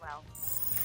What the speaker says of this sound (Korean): 윌리엄은 곧장 동료에게 전화를 걸고